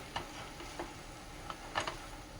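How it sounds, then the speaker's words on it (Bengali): Flattened rice halwa being stirred in a pan after the jaggery syrup has dried, soft scattered ticks and scrapes of a spoon over a faint steady hiss, close and quiet. "এখন একটু নাড়াচাড়া করে দিচ্ছি"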